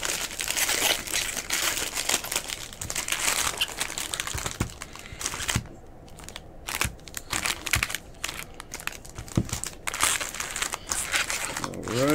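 Close, continuous crinkling and rustling of foil baseball card packs being shuffled and handled, with brief pauses and sharp crackles throughout.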